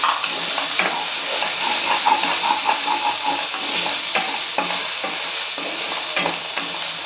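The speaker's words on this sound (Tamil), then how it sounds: "தக்காளி நல்லா வதங்கட்டும்." Tomatoes sautéing in a pan for chicken gravy, a close, steady sizzle with repeated scraping and clinking of a spoon stirring against the pan, no voices.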